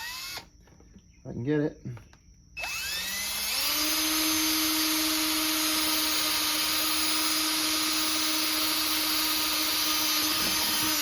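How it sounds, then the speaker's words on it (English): A person speaks briefly, then a power drill on low speed spins up drilling a pilot hole in a plastic 5-gallon bucket, running steadily at a constant high whine for several seconds, close and loud. "I pre-drill this hole on low, so I'm on the low speed"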